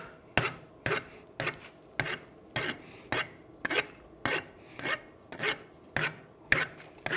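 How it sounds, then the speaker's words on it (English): A rasp drags across hand-forged metal in steady, evenly spaced strokes, about eleven rough scrapes in seven seconds, close and fairly quiet with no talking. "maybe I'm going to file it"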